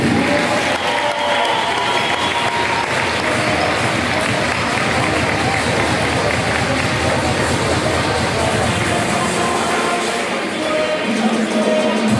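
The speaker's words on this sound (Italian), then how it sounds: "forte applauso per Samarcanda Volley!" Loud, continuous crowd applause in a sports hall greets the Samarcanda Volley team at a regional volleyball cup final, a steady roar of clapping with cheering throughout.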